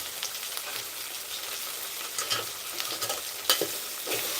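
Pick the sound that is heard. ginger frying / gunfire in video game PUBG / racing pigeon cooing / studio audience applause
ginger frying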